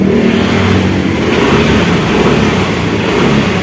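A Yamaha Mio M3 scooter engine runs loud and close after an electric start, a steady buzzing idle with slight revving and no talk over it.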